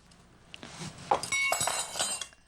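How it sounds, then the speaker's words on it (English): A spoon tossed down in a home kitchen while baking with brown sugar and cinnamon, giving a couple of bright, close metallic clinks against dishware in otherwise quiet surroundings. "Look at how she's throwing down the spoon"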